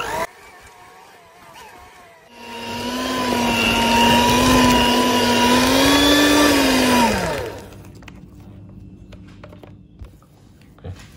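Chocolate chip cookie dough is stirred with a loud motorized whir that starts abruptly, holds steady for about five seconds, then winds down and stops, with quiet kitchen sounds before and after.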